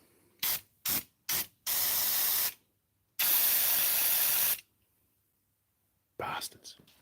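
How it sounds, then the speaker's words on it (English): Brake cleaner sprays from an aerosol can in three short bursts, then two long hissing blasts separated by pauses, close and fairly loud, ending with a shorter burst. "There was a lot of brake cleaner going on."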